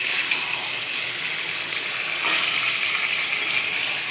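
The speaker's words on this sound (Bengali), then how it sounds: "জল দিলেও একদম অল্প করে দেবো, যাতে আলুটা একটু সেদ্ধ হয়" Water pouring into a pot of red chicken curry with potatoes, a steady loud close gush running throughout with a brief surge midway, no talking.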